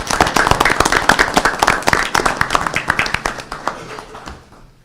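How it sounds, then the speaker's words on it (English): A city council meeting audience gives a round of applause for St. Patrick's, a sparse, uneven patter of individual claps from a modest group, close and distinct, thinning out and fading at the end. "one more round of applause for St. Patrick's"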